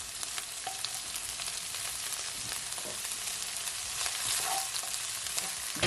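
Ginger stir-frying with cabbage in a hot pan, a steady crackling sizzle with faint stirring scrapes, close and continuous with no talking.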